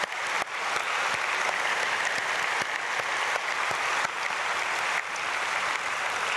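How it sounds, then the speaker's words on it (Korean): A church congregation at a dawn prayer service bursts into steady, dense applause that fills the whole stretch, many hands clapping together in a large room. "우리 박수로 축복하겠습니다."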